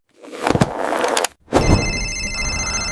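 A phone rings loudly with bright, repeating electronic tones, pausing briefly before ringing on steadily with no talking.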